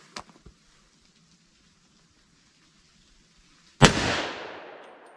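A .357 SIG pistol fired with a hard cast load gives a single loud, sharp shot late in the clip followed by a decaying echo, with a few faint clicks before it.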